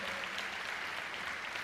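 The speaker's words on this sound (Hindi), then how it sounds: "तालियां हो जाए स्वामी रामदेव जी के लिए।" Steady applause from an audience crowd at a talk by yoga guru Swami Ramdev on environment and yoga, continuous and even throughout with no break.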